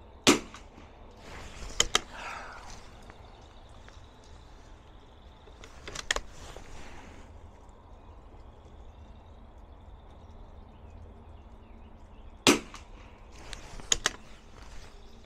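A pistol loaded with Midas Plus ammunition fires at targets: about seven short, sharp cracks, some in quick pairs, separated by pauses, all heard at moderate distance over a steady low outdoor hiss.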